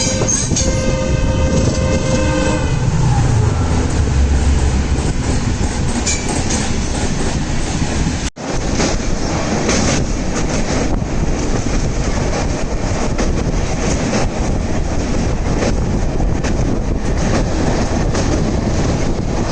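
A crowded passenger train leaving Surat on a Mumbai to Ujjain journey rumbles loudly and steadily with rhythmic wheel clatter, a horn sounding early on, and faint squealing from the wheels.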